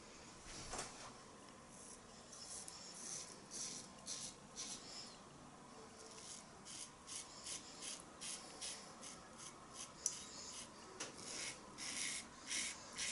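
A 1972 Gillette Alutech safety razor shaving with a slick shaving soap, producing soft, close scraping strokes in an irregular rhythm, faint and fairly steady.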